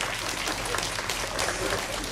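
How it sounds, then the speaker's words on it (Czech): An outdoor crowd at a march event claps together, a steady, even wash of applause at moderate distance with no pauses. "zatleskáme"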